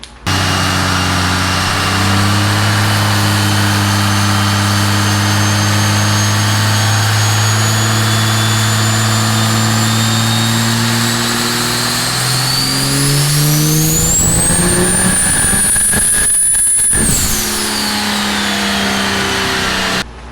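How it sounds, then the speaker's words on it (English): A tuned 12-valve diesel truck engine roars through a dyno pull, a loud, continuous drone that climbs steadily in pitch as the turbo whistle rises, then cuts off sharply near the end. "that 12 valve is in fact still on the dyno from Friday. Here's a clip from a pull on Friday."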